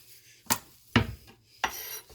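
Garlic cloves are crushed by hand on a kitchen surface as part of making cauliflower steak, giving three sharp, close knocks spaced apart in quiet.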